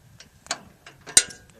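Key turning in a padlock on a storage container holding a fireworks stash: a handful of sharp metallic clicks and ratcheting snaps close up, ending in one louder clack, with no talk.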